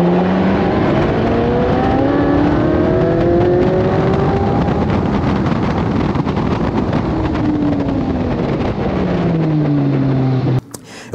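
A Chevrolet Corvette Z06 engine revs loudly, its pitch climbing and falling in long sweeps with wind buffeting the microphone, before cutting off abruptly near the end.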